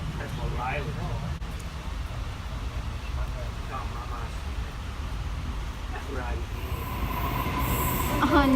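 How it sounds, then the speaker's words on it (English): A train rumbles and rolls in a station, with low steady noise that swells near the end and a thin wheel squeal rising at the close, while people chat in the background. "Seriously, it's at the station and missed our train."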